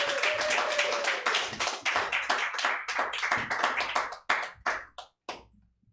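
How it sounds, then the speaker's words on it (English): A live comedy show audience claps and applauds, a dense burst of many hands at close range that thins into a few scattered claps and fades to near silence. "Put your hands together. Give a round of applause to Dixon Her."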